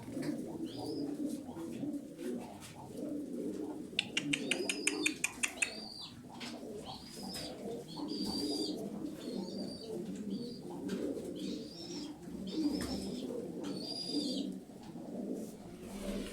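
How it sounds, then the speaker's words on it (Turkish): Crested pigeons coo repeatedly in soft rhythmic calls, joined briefly by a quick burst of wings flapping, with low background noise throughout. "tepeli kuşlar, kanat sesleri de falan çok güzel"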